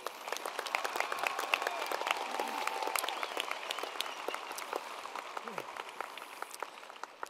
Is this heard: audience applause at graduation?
yes